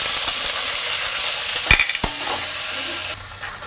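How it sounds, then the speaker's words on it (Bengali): Chopped onion and tomato frying in a pan for a restaurant-style egg chicken tadka, a loud close hiss and sizzle with two sharp stirring knocks midway. "এর মধ্যে দিয়ে দেবো পেঁয়াজ কুচি, ভালো করে ভেজে নেবো"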